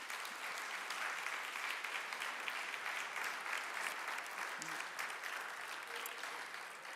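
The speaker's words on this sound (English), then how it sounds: "Please give them a big round of applause." Steady, fairly distant audience applause at an international medical awards ceremony, even clapping that holds throughout and tails off slightly at the end.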